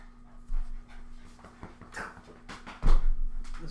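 A dog pants in quick rhythmic breaths close by, with a few louder huffs and a faint whimper, no voices.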